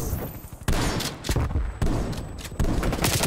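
Gunfire in the video game Call of Duty Cold War, dense, loud rattling shots filling the whole stretch with heavy thumps where new bursts begin, no talking.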